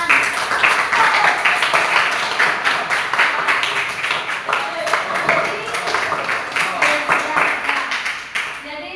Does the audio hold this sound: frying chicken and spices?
no